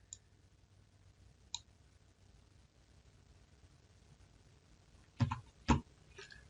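Computer mouse clicks during a software configuration task: a couple of faint isolated clicks early, then two sharper clicks close together near the end, in a quiet room.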